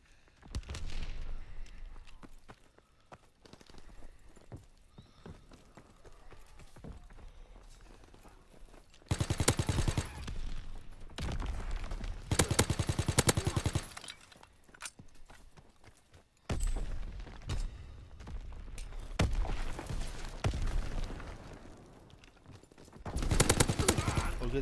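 Bursts of gunfire in Call of Duty WW2 come and go, with loud sustained volleys separated by quieter stretches of distant shots and scattered game noise.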